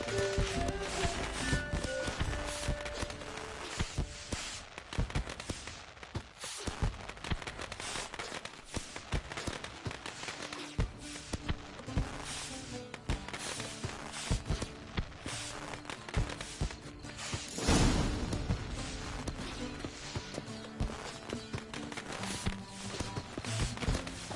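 Horse hooves clip-clop steadily across the whole stretch in The Witcher video game, a busy rhythmic patter of footfalls set against game music and ambient noise, with a louder burst near the end.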